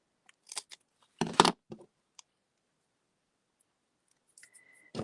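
Scissors trimming paper for a stamped card project, a few crisp snipping bursts close by with quiet pauses between, then soft handling noise and a faint tone near the end.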